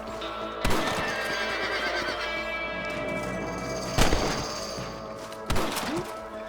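A horse in the Red Dead Redemption video game on PS5 whinnies and neighs over steady background game sound, with hooves clopping and a few sharp thuds landing at irregular moments.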